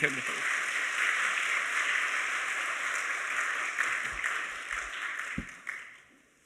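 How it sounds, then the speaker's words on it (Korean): A Korean church congregation at an anniversary worship service applauds as a pastor comes forward, steady moderate clapping that tapers off toward the end, with a few louder thumps near the microphone. "우리 목사님 나오실 때도 큰 박수로 네"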